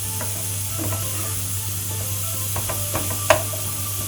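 Bulgur toasting in a hot pan gives a steady, close sizzle and hiss, with a few light scrapes and clicks from stirring and no voices.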